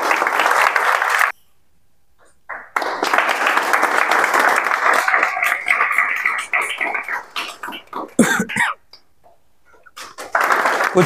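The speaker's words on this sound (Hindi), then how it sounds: "ताली बजा दीजिए भाई।" Applause and clapping from students at a results celebration for top scorers, a broad crowd clapping in bursts broken by short pauses, with some talk mixed in.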